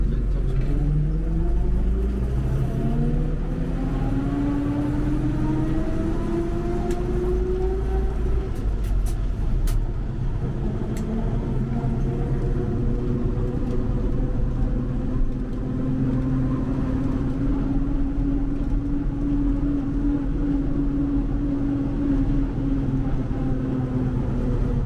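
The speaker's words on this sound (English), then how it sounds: "the whole thing about this is the experience of riding on the bus" A loud, steady engine drone with rising and falling gear whine from a vintage bus of King Alfred Buses in Winchester, pulling away and cruising, continuous throughout with no voices.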